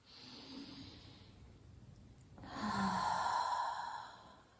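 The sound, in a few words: deep breathing during a yoga session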